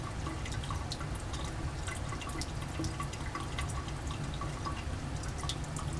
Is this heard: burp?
no